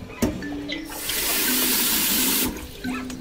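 Water from a tap splashes into a pot of fish stock being prepared in a kitchen, a steady gushing pour lasting about two seconds, with a soft clatter before and after.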